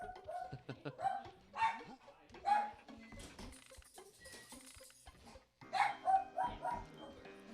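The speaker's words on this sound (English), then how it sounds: "Bark, bark, bark, bark, bark." Dog barking at home in a series of sharp, fairly close barks in two bursts separated by a lull, with a person talking over and between them.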